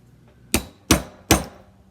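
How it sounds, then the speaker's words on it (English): A brass mallet strikes copper resting in a brass dapping block three times, each blow a sharp, bright metallic hit with a short ring, evenly spaced and close. "So I'm hitting this with a brass mallet."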